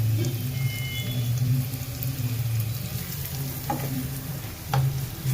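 Garlic and onion cook in a pan over a low gas flame, giving a continuous close sizzle and bubbling with a low steady hum and a couple of brief stirring clicks.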